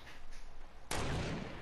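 Gunfire erupts in a battle royale game: quiet background ambience, then an abrupt loud blast of shots that continues as a dense, rumbling burst to the end.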